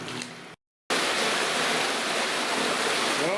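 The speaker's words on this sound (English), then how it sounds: "a huge amount of water running out of here now" A large volume of water pours out from behind a broken dam with a dense, steady rushing roar, close and loud. It is interrupted once by a brief silent dropout.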